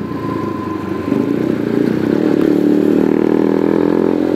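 A motorcycle rides along a road with a loud, steady engine drone that swells slightly as it goes on, and no one speaks.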